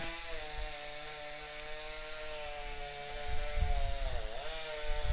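A STIHL MS661 chainsaw screams at high, steady revs while cutting timber in a stock saw competition, its pitch dipping briefly as the chain bogs into the wood.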